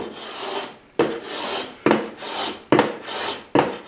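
A No. 3 smoothing hand plane set very fine shaves wood in five close, crisp strokes, each a bright rasping swish that starts sharply and tapers off, with short pauses between passes.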